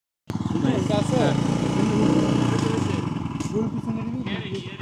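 A motorcycle starts up and runs steadily nearby as a learner rides slowly, the engine puttering evenly with faint voices in the background.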